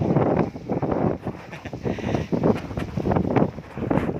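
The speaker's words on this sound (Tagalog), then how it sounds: "Ay, lakas ng hangin mga idol." Strong wind buffeting the microphone in loud, uneven gusts with a low rumble, with no voices.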